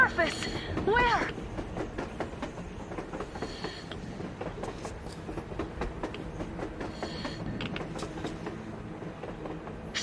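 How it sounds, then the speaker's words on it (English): A train rolling across the surface in the video game Metro Exodus, steady clattering rail noise with rhythmic wheel clicks running throughout, with a voice speaking over it near the start. "A train! A damn train on the surface!"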